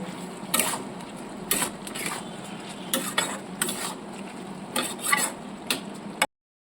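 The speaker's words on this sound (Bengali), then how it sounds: "ভালো করে আমি নেড়ে নেব।" Gobindobhog rice with salt and turmeric for jackfruit rice is stirred in a pan, giving a series of close, rhythmic scraping strokes with faint metallic clinks before the sound cuts off abruptly.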